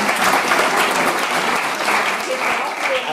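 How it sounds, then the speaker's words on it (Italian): Audience applause breaks out at the opening of the AIAT 2022 conference days, a dense, steady clapping from a sizable crowd that holds at an even level for the whole span. "un applauso speciale ad Andrea"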